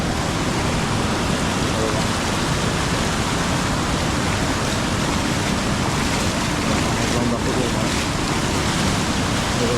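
The flooded Kajali river in the Konkan roars during heavy rain, a loud, steady rush of water filling the whole stretch with a constant wash and no pauses. No voices are heard over it.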